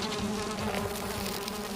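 A swarm of bees buzzes continuously in the survival video game Valheim, a close, dense drone with no talk over it.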